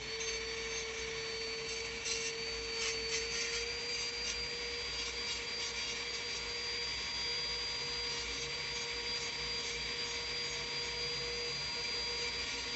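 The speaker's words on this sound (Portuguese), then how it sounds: "eu troquei a broca por uma broca com uma área maior" A wider dental bur trimming excess from the cheek and tongue sides of a temporary crown for tooth 36 gives a steady, high-pitched whining grind, continuous and close throughout.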